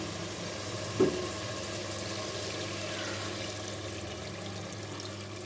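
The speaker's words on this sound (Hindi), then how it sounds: "अब इसी के साथ जो है इसमें जाएगा पानी" Water pours into a pot of half a kilo of mutton for nehari, a steady, soft rushing stream with one brief knock near the start and no talking.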